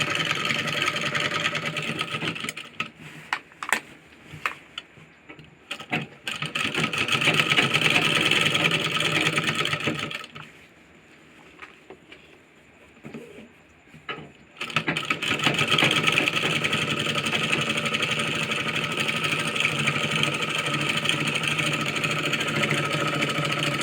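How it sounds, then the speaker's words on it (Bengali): Sewing machine running a double seam on a petticoat, a fast steady whirring stitch in long bursts with a quiet pause midway, then stitching again, close and loud. "এটা ঘুরিয়ে আমরা আর একটা ডবল করে সেলাই করে দিলাম"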